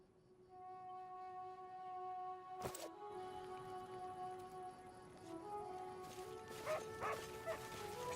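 A dog barks in the video game Pathfinder: Kingmaker, a few sharp yips and barks over quiet background music and tones, with no talking.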